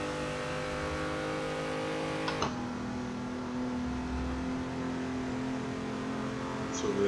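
A BMW race car engine in a virtual racing game drones steadily at high revs, with a brief gear-change dip partway through before the constant whine resumes.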